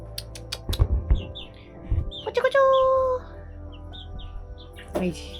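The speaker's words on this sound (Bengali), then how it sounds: "এখানে মুরগি আছে মুরগিও আছে উপরে পায়রাও আছে" Chickens kept alongside pigeons and rabbits at a rural village resort give a few short calls, including one clear drawn-out squawk midway, amid scattered chirps and light background noise.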